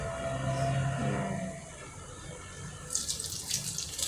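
Water poured into ground urad dal while preparing ulundu vadai batter, a steady flowing pour at first that thins out, followed by brighter splashing trickles near the end, with no talk.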